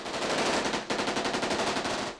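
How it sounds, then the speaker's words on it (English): Sustained automatic gunfire from Russian special forces during a school siege, loud and continuous rapid bursts with a brief break near the start, no talk. "They just opened fire. They started firing at school."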